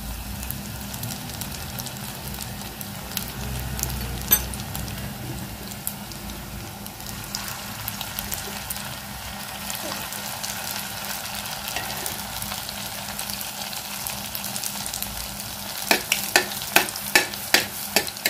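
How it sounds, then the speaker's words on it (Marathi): Aloo paneer koftas frying golden brown in hot oil, a steady close sizzle and bubbling throughout, with occasional sharp clicks and taps of a ladle stirring them near the end. "छान गोल्डन ब्राऊन आपण परतून घेणार आहोत कोफ्ता"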